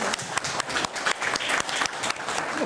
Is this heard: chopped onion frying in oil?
no